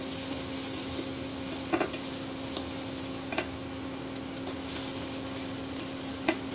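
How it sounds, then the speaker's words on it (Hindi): White onions frying with garlic in a pan for chicken fried rice, a low steady sizzle with a few faint clicks of stirring, heard close and alone. "इसमें से वाइट प्याज को पहले फ्राई होने देंगे, उसके बाद फिर ग्रीन डालेंगे।"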